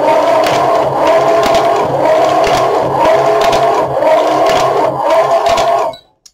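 Motorized knitting machine carriage knitting a border, a loud whirring mechanical drone sweeping back and forth in regular passes with clicking scrapes, then stopping abruptly near the end.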